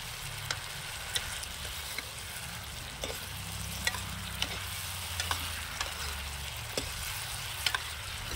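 Fish frying in a pan during Kashmiri village-style cooking, a steady close sizzle with soft stirring scrapes and occasional light clicks of a utensil, no talking.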